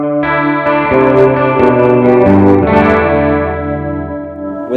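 Electric guitar through a Marshall AVT 100 amp with chorus, delay and room effects: a few sustained strummed chords that shimmer and swirl, with slight grit and echoing tails, played loud and alone.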